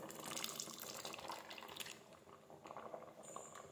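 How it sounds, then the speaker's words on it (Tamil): Milk poured into a pot of roasted moong dal and sago payasam simmering on the stove, a steady close liquid splashing and gurgling that fades slightly midway, alone without talk. "இப்போ பால் ஊற்றியாச்சு"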